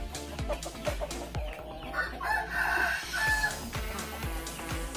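Chickens cluck and call repeatedly in a busy coop, with overlapping bird sounds and a rooster-like crow rising midway.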